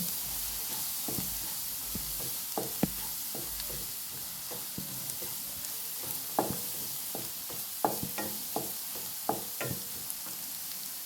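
Prawn curry ingredients sautéing in a pan, a steady close sizzle with repeated clinks and scrapes of a spoon stirring at an uneven rhythm.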